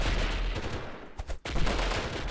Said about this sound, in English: I see some shots being fired at my general direction